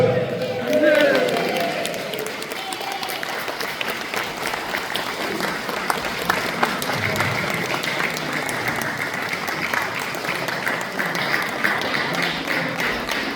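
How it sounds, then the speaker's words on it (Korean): Crowd applause at a Korean Liberation Day 80th anniversary national event, dense steady clapping from a large audience filling the space for over thirteen seconds, with voices mixed in underneath. "다 같이 박수 주세요."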